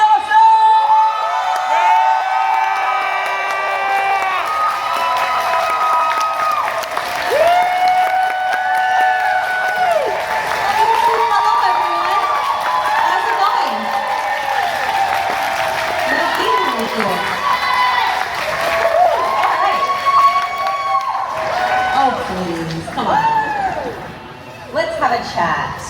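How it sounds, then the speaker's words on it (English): A convention crowd applauds and cheers loudly for a celebrity guest, sustained whoops and screams layered over continuous clapping, with a voice calling out over the din. "Get on your feet. Make some noise for Brie Larson!"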